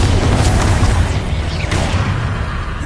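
A Bombarda spell explosion in Hogwarts Legacy, a loud, dense, rumbling blast with booming low end that stays heavy and sustained throughout, no voices over it.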